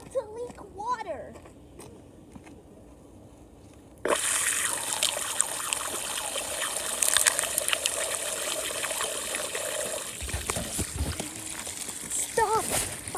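Water gushes steadily from a broken, leaking pipe in a children's toy play scene, a loud continuous rush that starts abruptly, with a voice talking over it.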